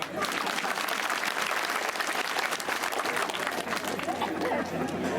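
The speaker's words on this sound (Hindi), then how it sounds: "ताली बजाओ।" Sustained crowd applause at an election rally in Shivpuri, a dense, steady wash of clapping that fills the whole stretch without a break.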